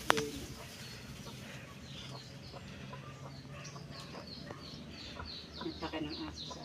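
Chickens cluck and coo at a rural hut, with scattered short calls from several birds at moderate distance over a quiet outdoor background, and a sharp knock at the start.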